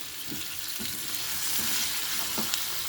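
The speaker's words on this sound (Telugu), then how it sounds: "ఇప్పుడు వెల్లుల్లిపాయలు వేస్తున్నానండి." Garlic cloves drop into hot oil in a frying pan for a Telugu bottle gourd curry, giving a steady loud sizzle with a few soft stirring bumps and no speech.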